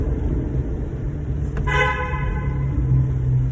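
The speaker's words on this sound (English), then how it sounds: "that guy honked at me because I fooling around in here" A car horn honks once, loud and held for about two seconds, over the low rumble of a 2015 Chrysler 200S 3.6 V6 with its resonator cut out for a straight-pipe exhaust.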